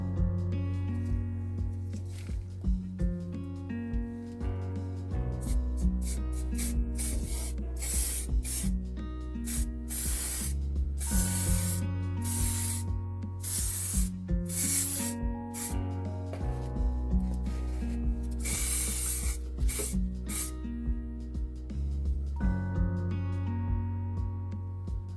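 Lacquer is sprayed onto a finished power-carved wood carving in repeated short hissing bursts over steady background music.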